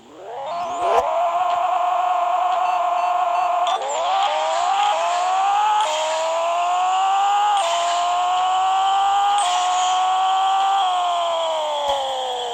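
Mazda RX-7 race car accelerating hard, a loud rising engine note climbing through repeated gear changes over about twelve seconds, close and steady with no talk.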